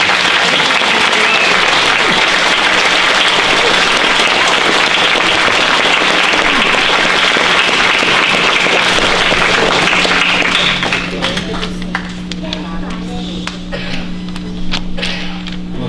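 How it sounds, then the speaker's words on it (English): A school assembly crowd of students and faculty applauds a veteran at an elementary school Veterans Day event, loud sustained clapping for about eleven seconds that thins out, leaving scattered claps and a steady hum. "let's give him a round of applause"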